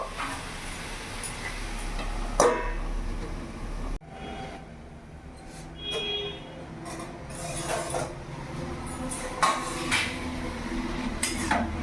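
A lid clatters onto a pot of ash gourd curry, with a few metallic clinks and knocks of cookware heard close up against a steady low background hum.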